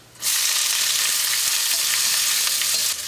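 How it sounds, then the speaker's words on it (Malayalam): Chopped onion, garlic, ginger and green chilli hit hot oil and sauté, bursting into a loud, close, continuous sizzle that stays even for about three seconds before easing off slightly at the end. "ഇതിലേക്ക് സവോളയും വെളുത്തുള്ളിയും ഇഞ്ചിയും പച്ചമുളകും ചേർത്തിട്ടൊന്ന് വഴറ്റാം"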